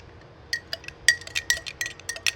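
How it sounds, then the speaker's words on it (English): A spoon stirs Greek yogurt and honey in a glass, giving a run of bright, irregular clinks against the glass, close and clear with no talking. "let's just give this a good mix. Good stir."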